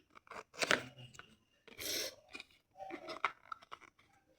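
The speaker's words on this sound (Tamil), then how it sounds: "இந்த மூடியை கலட்டி போட்டு மூடி அடித்து காட்டுறேன்." A lid being unscrewed and snapped shut, heard up close as short scraping twists and clicks in a few bursts with quiet gaps between them.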